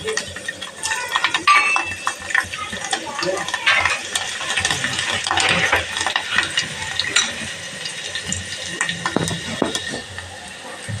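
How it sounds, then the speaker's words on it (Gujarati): Steady sizzling of chopped garlic frying in hot oil, with scattered scraping and stirring clatter throughout, fairly close and continuous. "ગરમ થઈ ગયું છે આપણે લસણની પડતી એડ કરી દઈશું અંદર"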